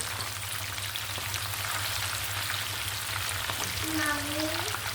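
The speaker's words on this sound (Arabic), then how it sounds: "انا رح اقلي البصل بس لبين ما يدبل، ما رح اقلي لبين ما يصير لونه ذهبي" Onions fry gently in a pan until softened, a faint continuous sizzle with a light crackle and a short tonal squeak near the end, no talking.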